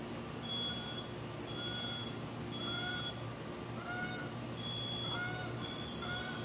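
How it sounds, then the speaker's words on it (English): A fire alarm sounds indoors with a repeating electronic beep, short tones recurring about once a second over a steady hum of background noise, faint and alone with no talking. "there goes the fire alarm again"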